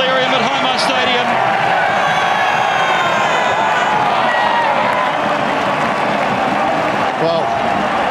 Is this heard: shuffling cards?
no